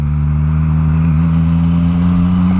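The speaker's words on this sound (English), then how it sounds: "So I started the bike. We're in first gear." A motorcycle accelerating in first gear gives a loud, close, continuous engine drone that climbs slightly in pitch throughout.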